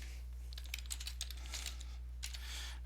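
Computer keyboard typing, a quick run of light clicky keystrokes in an irregular rhythm, close and fairly quiet over a steady low electrical hum.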